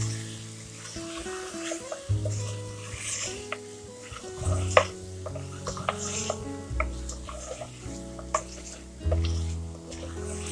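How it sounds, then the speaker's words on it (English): Spices for an Andhra chicken curry, including coriander powder, fry in a pan with a soft sizzle while a utensil scrapes and stirs in irregular bursts, fairly faint, with no talking. "Just fry these spices well."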